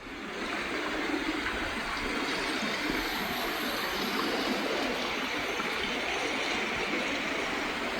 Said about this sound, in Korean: 비가 오면 이렇게 멋진 폭포를 보실 수 있습니다.